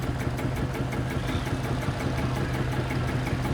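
A 1959 Massey Ferguson 35 diesel tractor in a vintage tractor parade at the Great Dorset Steam Fair runs with a steady, loud, close rumbling drone and rhythmic engine knock, without talk.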